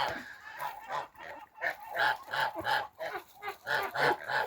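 Geese honk repeatedly on a village farmyard, near and fairly loud, in a series of short nasal calls that come in quick irregular bursts.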